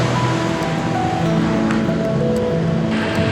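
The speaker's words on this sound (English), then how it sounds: "I spend the next few hours happily splashing through puddles" A 4WD vehicle drives along a wet, puddle-filled sandy track on Fraser Island, a continuous rushing splash of water mixed with a steady engine drone, loud and close throughout.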